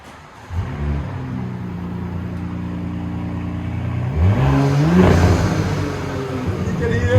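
A 2019 Audi SQ5 with a 3.0L V6 and dual exhaust with the rear muffler deleted revs up from quiet to a rising, moderately loud rasp and falls back, heard close.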